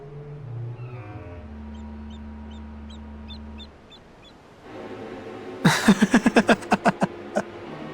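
A kitten mews and cries several times in rapid succession in Final Fantasy 14 Dawntrail, loud and close, following a stretch of low game music.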